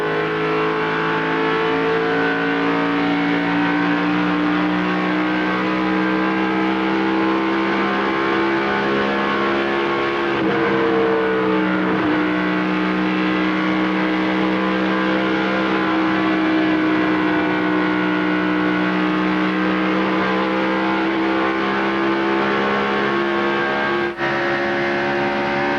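Stock cars race at the 1995 Mountain Dew Southern 500 in an on-board view, with a continuous loud, droning V8 engine roar and steady harmonic whine throughout, shifting slightly in pitch, alone with no talk.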